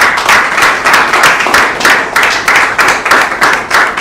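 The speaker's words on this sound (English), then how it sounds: "a round of applause for him" Rhythmic applause from a graduation ceremony audience honoring a diploma graduate, with steady, fairly close clapping pulsing in dense waves for a few seconds and no talk over it.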